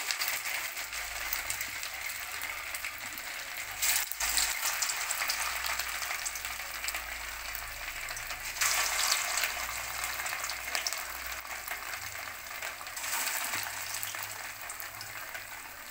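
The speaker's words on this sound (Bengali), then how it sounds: "এবার আমি আস্তে আস্তে এগুলোকে তেলেতে দিয়ে দেবো।" Sesame and potato snacks frying in hot oil, a steady broadband hiss and crackle that runs throughout at moderate level with no talking.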